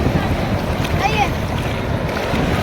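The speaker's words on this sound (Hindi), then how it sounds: "देखें जी लहरें" Sea waves washing in at the seaside, a steady broadband rush with wind buffeting the microphone and no distinct breaks, heard close and fairly loud throughout.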